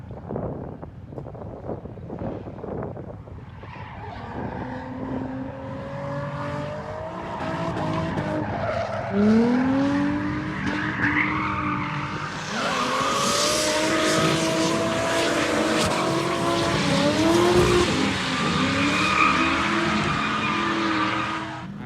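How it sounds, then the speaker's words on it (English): A drift car on a race track skids through a show run, its engine rising and falling while tires squeal in long wavering shrieks, growing louder and closer midway, with wind buffeting the microphone. "So while the cars cool down, we have a cool drift show."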